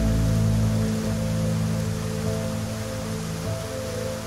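Steady monsoon rain falling, a broad hiss of drops with a low rumble underneath, continuous and fairly loud throughout, no voices.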